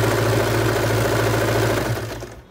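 A sewing machine stitches a corner seam joining leftover fabric scraps, with a close, loud, continuous motor hum that fades out at the end.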